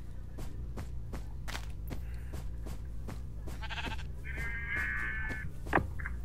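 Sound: sheep bleating in Minecraft video game

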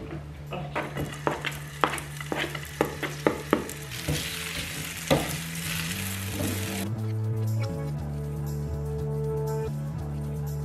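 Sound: food frying in oil in a pan

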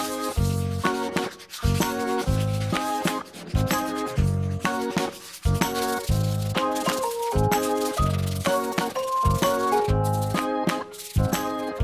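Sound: sanding wood with 100 and 240 grit sandpaper

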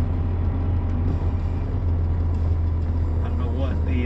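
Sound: 1993 Nissan Skyline driving

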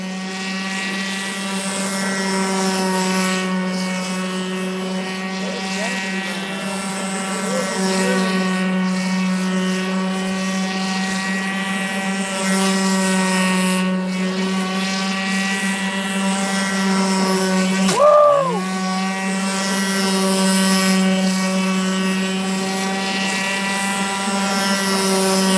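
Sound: R/C airboat engine running at full throttle

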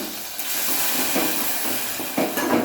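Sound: green chillies sizzling as they are sautéed in a pan

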